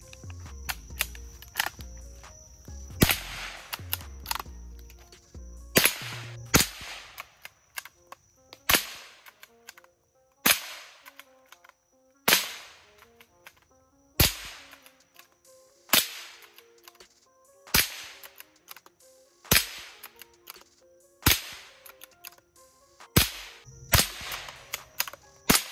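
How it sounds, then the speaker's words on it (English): A Savage Mark II rifle chambered in .22 Long Rifle fires repeatedly outdoors, sharp single cracks spaced about every second or two, loud and close, with a brief echo after each shot. "it's only chambered in 22 long rifle. So let's see some more firing."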